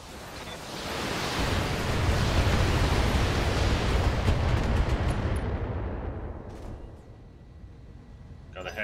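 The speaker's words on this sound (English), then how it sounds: "Firing!" Weapons fire in the mech combat game BattleTech, a long roaring barrage of rumbling blasts that swells, holds for several seconds, then fades into a quieter tail with faint clicks.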